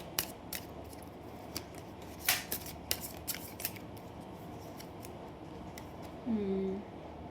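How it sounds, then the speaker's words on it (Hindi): Tarot cards being shuffled, a series of crisp close snaps and riffles with irregular spacing, fairly quiet against a low room background, with a brief murmur of voice near the end. "जब तक मैं कार्ड शफल कर रही हूँ"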